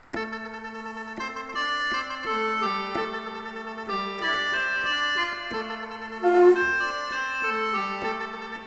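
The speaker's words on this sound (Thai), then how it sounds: "เสียงที่ห้าเป็นแคนครับ" A reedy, droning khaen mouth-organ voice on a Korg PA-700 keyboard plays a continuous flowing melody with sustained harmony underneath, steady and fairly loud, no voices.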